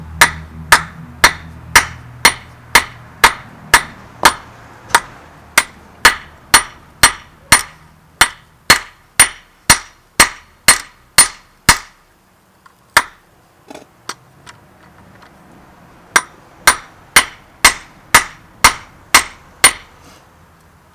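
A hammer rings out on a viking-style anvil while forging a flint striker, sharp metallic blows in a steady rhythm, about two per second, pausing briefly midway with some shuffling before the strikes resume.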